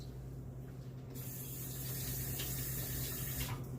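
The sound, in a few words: rinsing hands under running tap water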